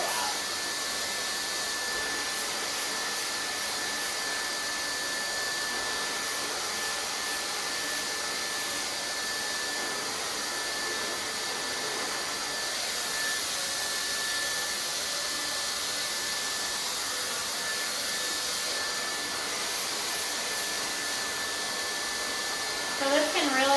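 A hair dryer runs continuously at close range throughout, pre-blow drying a client's hair with a steady, loud whooshing roar and a faint whine.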